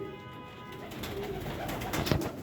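Soft pigeon cooing, a few low throaty calls rising toward the end over a steady background hum.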